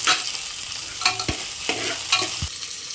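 Garlic and thick-cut onion fry in hot oil in a pan, a close, bright sizzle with several quick stirring scrapes and knocks over a few seconds, without any voice.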